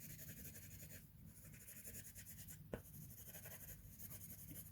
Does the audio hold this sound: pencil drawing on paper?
yes